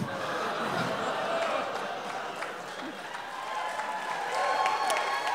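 Audience applause at a live storytelling show: a steady, moderately loud wash of clapping from a crowd, continuing without break through the whole stretch and swelling slightly near the end.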